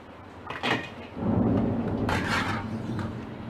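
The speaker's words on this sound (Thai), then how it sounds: "เสียงฟ้าร้อง ดังมากๆ เลยนะคะ" A deep rumble of thunder rolls in, loud and close, swelling and lingering for a few seconds before fading.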